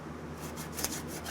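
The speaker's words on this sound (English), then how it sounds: "now I can take the sanding block to it" A hand sanding block is rubbed over car body filler on a dent repair, producing quiet, rapid raspy scraping strokes at close range, repeated several times in quick succession.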